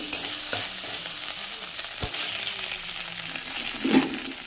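Bay leaf and spices sizzle steadily in a hot pan of oil while moong dal is being made, with a continuous frying crackle, a few clinks and stirring scrapes, and no talk.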